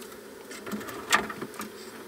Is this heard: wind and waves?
no